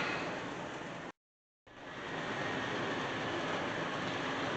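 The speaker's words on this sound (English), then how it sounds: "here comes our freight train headed northbound over the gorge" A northbound freight train crosses a gorge, a loud, steady broadband rumble that drops out abruptly for half a second, then swells back and holds.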